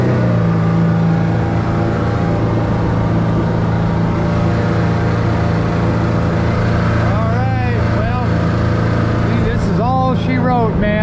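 Yamaha V-Max SHO F250 outboard on a 22-foot open center console boat, idling with a steady low growl that runs close and loud throughout, with brief chirping squeaks near the end.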